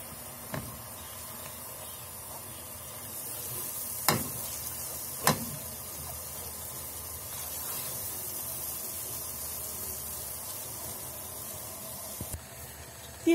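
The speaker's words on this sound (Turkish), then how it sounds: "Unumuzu iyice rengi dönene kadar kavuracağım." Flour roasts in a pan for Turkish flour halva, a faint continuous dry hiss with occasional sharp clicks and scrapes of a spoon stirring.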